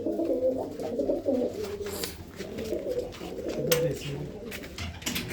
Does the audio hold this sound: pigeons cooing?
yes